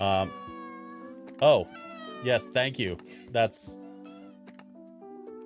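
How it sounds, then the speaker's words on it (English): A house cat meows repeatedly, several drawn-out plaintive cries close by, over soft lo-fi music in a gaming room, while someone speaks briefly. "my cat is crying because my wife locked him out of the bedroom"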